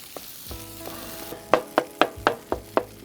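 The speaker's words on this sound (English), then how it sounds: "So the guanciale is rendering out nicely." Guanciale rendering in a pan beside a pizza being cooked with snow: a steady low frying hiss with a run of six sharp close clicks or pops near the end, no talk.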